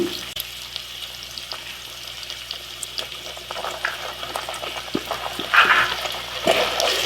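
Ginger garlic paste frying in a pan over a low flame, a soft steady sizzle that swells into brighter crackling spurts near the end.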